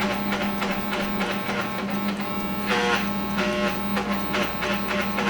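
An Oster hair clipper buzzing steadily through a crewcut fade haircut, a constant close whine with faint snipping texture and no speech.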